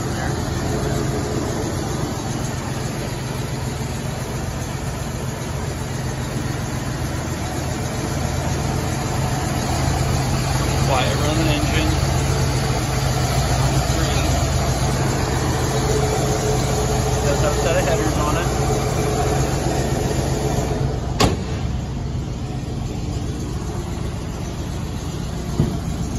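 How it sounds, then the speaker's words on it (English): A 1964 Ford Ranchero with a five-speed Tremec transmission idles steadily in the background, its engine giving a constant low hum while someone talks over it. "Good running engine."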